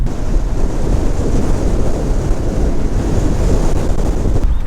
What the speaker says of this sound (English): And quite windy.